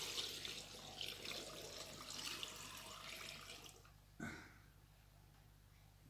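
Hot water runs steadily into a container for about four seconds, then stops; a brief clunk follows and quiet room tone remains.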